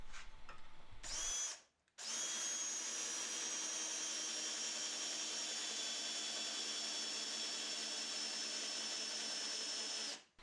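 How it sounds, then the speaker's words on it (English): A power drill whines steadily at close range while drilling dowel holes in wood with a doweling jig, briefly starting and stopping before a long continuous run that spins down at the end. "to drill the holes for that I'll use my self-centering doweling jig."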